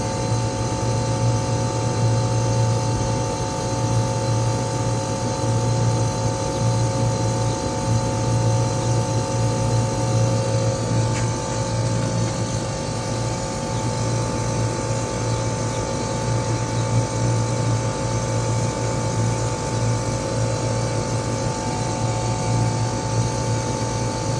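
A heat pump compressor runs steadily through heating operation, a loud continuous mechanical hum with a droning low tone and constant hiss, no voices over it.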